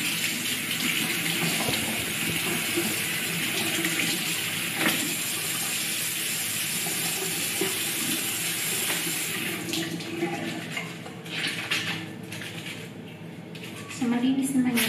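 Tap water runs steadily into a sink while underwear is hand-washed, a continuous gushing stream with splashes and some handling noise, and a voice talks over part of it.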